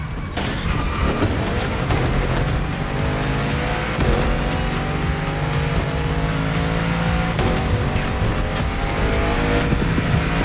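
A supercar in The Crew Motorfest racing game drives with a loud, continuous engine drone, shifting revs and tire squeal. The sound carries steadily for about ten seconds, with no talk.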